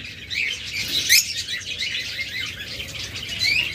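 A tame pet bird, one of a pair at a bird market stall, chirps in quick, bright, repeated bursts close by, with a busy murmur of background noise and no speech.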